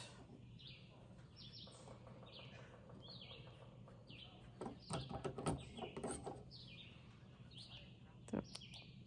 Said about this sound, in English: The birds are certainly giving us a concert today out on the back porch with Feltalala and the birds.